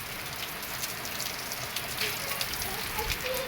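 Rain that has just started pours steadily, a dense even hiss of drops hitting surfaces outdoors, continuous and fairly loud throughout, with faint scattered sounds but no clear voices.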